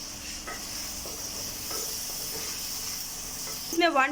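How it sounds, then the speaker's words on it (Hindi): Onions sizzle and fry in a pan for a spicy brain masala fry: a steady, close hiss with faint stirring clicks throughout and a brief high chirpy sound near the end. "प्याज को फ्राई कर रही हैं"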